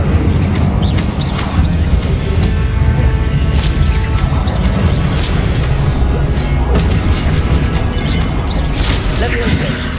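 Loud, sustained rushing roar of the Incendio fire spell being cast in Hogwarts Legacy, holding steady and dense throughout with faint crackle on top.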